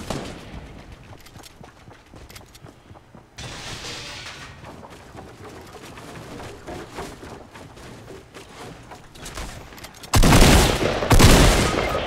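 Gunfire in a shooter video game, steady low rattling shots through most of the stretch, ending in two loud close bursts near the end.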